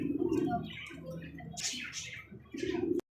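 A pair of Lakha pigeons, green-coloured with large tails, coo in soft repeated bursts close by, with a few brighter chirps in the middle. One short break comes near the end.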